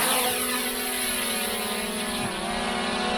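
A DJI Mini 3 Pro drone lifts off on automatic takeoff, its small propellers producing a loud, steady high-pitched whir that holds throughout at close range, rising slightly in pitch midway.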